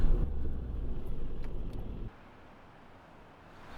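Muffled cabin rumble of a car driving on the Yorkshire coast, fairly quiet and steady, dropping to a softer hum halfway through as the engine note settles.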